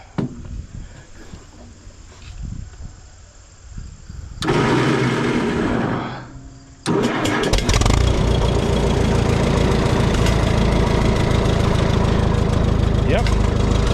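A tractor engine cranks and catches, settling into a loud, steady running rumble after a brief sputtering start, with quieter low sounds and a few spoken words before it.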